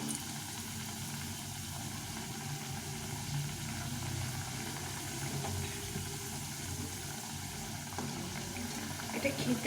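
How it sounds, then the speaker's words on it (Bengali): Pea-stuffed kachori deep frying in a pan of oil, a steady bubbling hiss that runs without break, with a voice talking faintly beneath it. "এখন বাকিগুলো ভেজে নেব"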